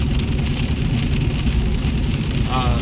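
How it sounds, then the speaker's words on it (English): Steady heavy rain drums on the roof of a big pickup truck with big tires, a dense continuous hiss over a low engine rumble, loud and close throughout. "So hopefully you can hear me over the rain. It's raining, it's nasty."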